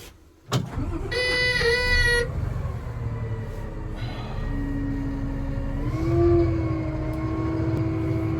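A pond-digging machine's engine cranks and catches, then settles into a steady low diesel rumble, with a brief horn-like whine partway through and the idle rising slightly near the end.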